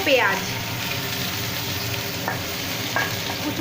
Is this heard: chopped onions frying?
yes